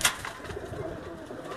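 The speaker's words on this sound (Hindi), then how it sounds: "इस वक्त जो आप मेरी स्क्रीन पर कबूतर देख रहे हैं" Breeder pigeons coo softly at close range, with low, throaty, rolling calls repeating through a short stretch and no talking.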